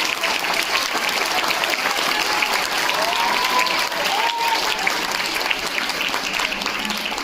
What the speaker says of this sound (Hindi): और एक ताली आपके अपने टीचर के लिए।